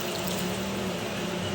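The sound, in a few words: adding water to pork kaldereta in a pot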